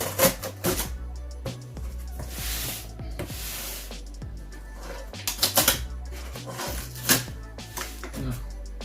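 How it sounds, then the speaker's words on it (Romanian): Scissors cutting open Theragun PRO packaging, a series of close, sharp snips and crinkling rustles of card and plastic in irregular bursts. "Desfacem cu o foarfecă."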